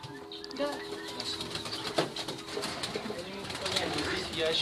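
Pigeons coo softly in a low, repeated murmur from a dovecote, with bird movement and a few voices in the background.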